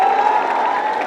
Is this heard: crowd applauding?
yes